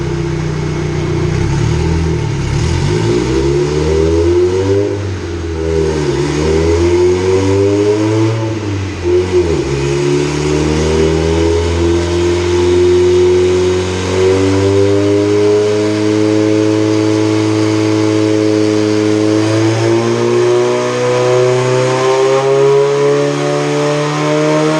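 A car engine revs hard on a chassis dyno, its loud tone sweeping up and down through several pulls before climbing steadily and holding high near the rev limiter, with no voices.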